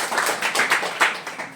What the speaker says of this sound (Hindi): जोरदार ताली बच्चे।